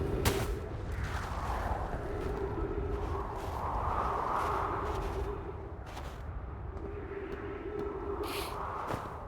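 Rumbling explosion blasts in the space exploration game Outer Wilds, a continuous booming roar with sharp cracks near the start and end, loud and steady throughout with no talk.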